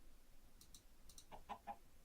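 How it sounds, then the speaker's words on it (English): Faint chicken clucks from a Minecraft-style modded skyblock game, a few short soft calls over a quiet low hum near the end. "We've only got 3 chickens anyway."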